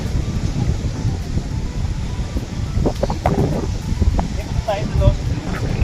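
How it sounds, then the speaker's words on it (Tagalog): Strong beach wind buffets the microphone in a steady low roar, with people talking over it and brief light knocks toward the end. "Oh, ang lakas ng hangin."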